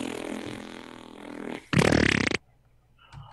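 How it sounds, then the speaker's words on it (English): A played fart sound effect bursts out loud and close for about half a second, right after a stretch of muffled background noise, then the clip drops to near quiet. "Does the little guy want to hear a fart?"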